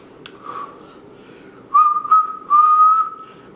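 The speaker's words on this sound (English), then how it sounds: "Your girl can whistle now." A person whistles nearby, a few soft airy attempts followed by three short, clear whistled notes in a quiet room.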